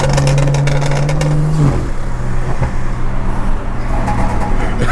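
BMW 340i with an N55 engine revs loudly through its exhaust nearby, a steady rising drone that breaks off abruptly and then falls to a rougher, throbbing roar with traffic-like noise around it.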